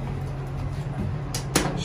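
A Schindler 330A hydraulic elevator door at Hoboken PATH station, worn and patched with tape, closes over a steady low mechanical hum, with two brief clattering bursts near the end.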